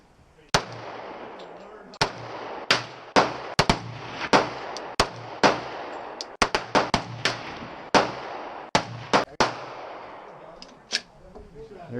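Gunfire at an outdoor shooting range: a dozen or more sharp, loud cracks at irregular intervals, some spaced out and others in quick pairs, each trailing a short echo, with faint voices between shots.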